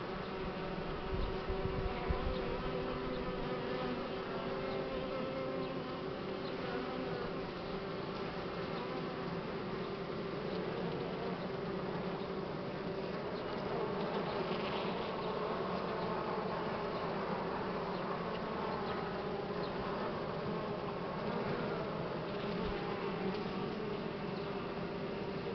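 Buckfast honey bees swarm and hum steadily around an open hive during a spring inspection, a dense continuous buzz heard close and fairly loud for the whole stretch, with no talking.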